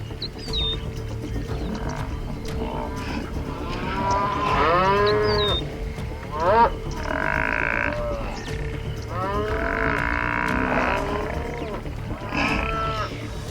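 Texas longhorn cattle on a ranch in Texas moo loudly and close by, several long, drawn-out bellows following one another over a low background hum.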